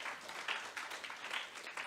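A church youth congregation applauds to bless a new member, a steady wash of many hands clapping at moderate distance, filling the short moment evenly.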